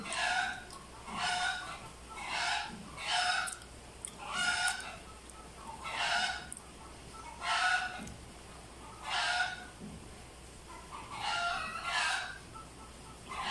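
Laying hens cluck and squawk in repeated bursts before feeding, fairly steady and moderately close, with low background noise between calls.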